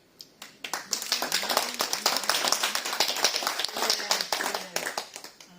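A church congregation clapping steadily at a Sunday service, dense overlapping claps with a few voices underneath, continuous for several seconds.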